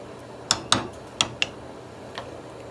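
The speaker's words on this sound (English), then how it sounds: "I stir this in really good." A spoon stirring Zuppa Toscana soup in a pot gives a handful of sharp, close clicks against the pot, spaced unevenly over a quiet background.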